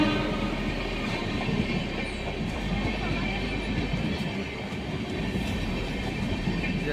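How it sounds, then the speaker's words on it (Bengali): A passenger train pulling out of Durgapur rumbles steadily along the tracks, a dense continuous roar with faint rhythmic clatter heard from inside a sleeper coach. "তো আমাদের ট্রেন কিন্তু ছেড়ে দিল দুর্গাপুর থেকে"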